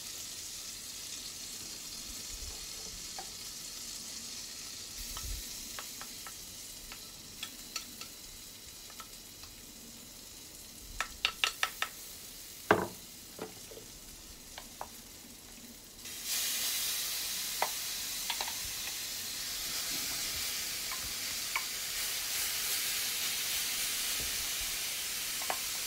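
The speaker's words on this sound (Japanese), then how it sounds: "弱火でしっかり炒めていきます。" Chopped mushrooms stir-fried on low heat in a pan for a chicken and mushroom terrine, giving a soft continuous sizzle with occasional scraping clicks of a utensil, growing louder and steadier partway through.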